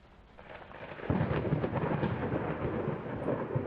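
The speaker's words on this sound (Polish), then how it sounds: "Jest ten w ogóle efekt spadających... spadającego deszczu na szyby." Steady rain patters against window glass as a video game sound effect, with a soft low rumble swelling in partway through and continuing under the drumming drops.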